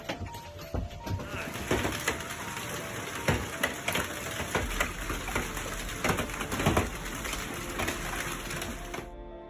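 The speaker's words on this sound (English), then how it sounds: "Huge hail hammered parts of West Des Moines, Iowa, smashing windscreens and causing damage to vehicles." Huge hailstones hammer down during a storm in West Des Moines, Iowa, a dense, continuous clatter of many sharp impacts on vehicles and surfaces, loud and close throughout with no talk.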